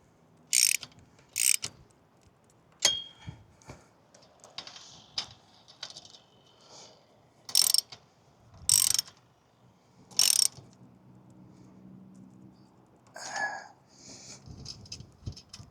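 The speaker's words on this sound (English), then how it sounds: "I want to go up and turn the rotor." Ham radio antenna rotor turning on a tower being repaired after a wind storm: sharp, isolated mechanical clicks and ratcheting clacks spaced irregularly among quiet gaps, with faint handling noise and no talking.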